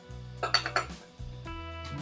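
A metal spoon clinks and taps against a cooking pan as ground spice powder goes into an ivy gourd curry. A few sharp, quiet knocks are heard over a low hum, with no talking.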